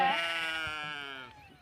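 A single loud, drawn-out sheep bleat, close by, wavering and fading toward the end with faint background noise.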